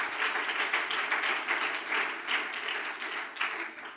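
An audience claps in steady applause for several seconds, a dense, moderately loud patter of many hands.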